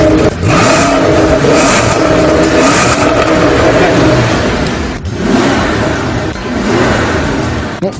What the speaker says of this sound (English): Now you just listen to the sound of this engine.